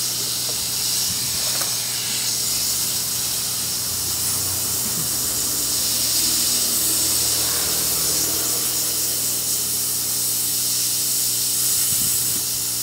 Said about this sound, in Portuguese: Agora eu já estou com minha, minha estação de ar quente aqui já, já ligada, a gente soltar esse carinha aqui.